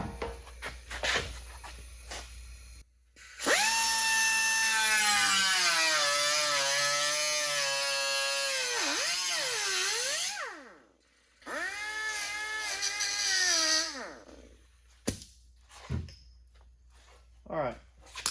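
A power tool cuts the lip off a 1928–29 Model A replacement cowl panel on the driver's side. It whines in two bursts, a long cut and then a shorter one, with pitch sagging and rising under load. Scattered clanks sound between the cuts.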